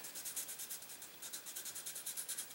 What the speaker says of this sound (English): So I'm going to go ahead and give that a few rub downs.